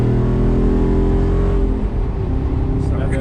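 Jeep Rubicon 392 V8 engine accelerating hard, a loud deep roar filling the cabin that builds and then eases as the vehicle pulls away, heard from inside on the road.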